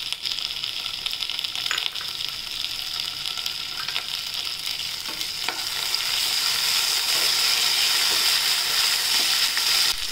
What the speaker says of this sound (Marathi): तर तेल टाकूया आपण परत आणि आता आपण हिरवी मिरची, लसूण आणि टोमॅटो हे सगळं त्याच्यात टाकूया।